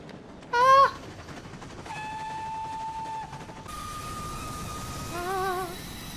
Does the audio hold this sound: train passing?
yes